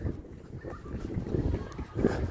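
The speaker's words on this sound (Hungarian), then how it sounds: "Fúj a szél." Wind gusts outdoors near an industrial park road, a low rumbling buffet on the microphone that swells and eases, moderately loud, with no talk.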